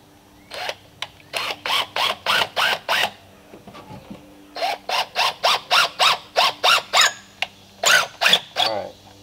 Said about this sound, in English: What I'm drilling through right here is dogwood